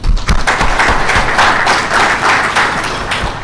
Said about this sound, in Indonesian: Tepuk tangan dulu pada pelaut ini kita semuanya.